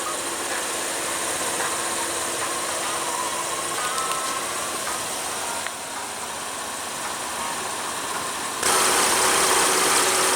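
A 2016 Chevrolet Colorado Z71 pickup with the 3.6 L V6 idling, a steady, fairly loud engine drone with a faint mechanical tick, briefly dipping and then rising near the end.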